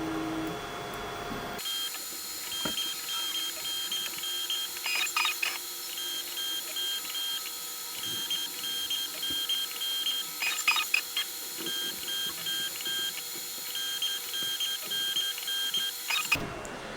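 A ProForge 300 3D printer runs its auto-calibration routine, with faint stepper-motor whines, soft mechanical clicks and occasional brief movements repeating over a steady quiet hum, heard alone for a long stretch.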